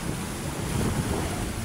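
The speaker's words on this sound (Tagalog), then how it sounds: "Maalon na maalon." Waves rolling on Manila Bay, a steady broadband wash of surf mixed with wind buffeting the microphone, continuous and fairly loud throughout with no voices.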